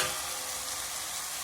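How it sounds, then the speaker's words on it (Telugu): Ridge gourd frying in plenty of oil gives off a constant, even hiss and crackle, soft and steady throughout with no voices. "నూనెలో బాగా నూనె ఎక్కువగా వేసి బాగా వేయించుకోండి"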